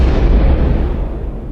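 A deep, rumbling explosion effect for a shooter video game, loud and sustained, with a dense low-end boom that slowly decays over about a second and a half.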